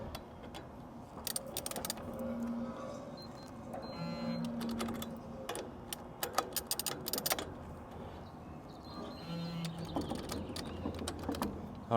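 A VEVOR digital torque wrench tightens the wheel spacer nuts on an M416 overland trailer, producing close, repeated ratcheting clicks in quick runs, broken by brief electronic beeps.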